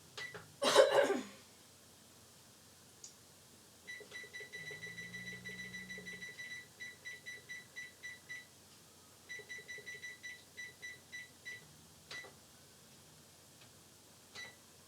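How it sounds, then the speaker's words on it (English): A kitchen timer, set while cornbread pancakes cook, gives a brief clatter, then two long runs of rapid, evenly spaced electronic beeps separated by a short pause, close and clear in a quiet kitchen. "I set my timer for 33 minutes"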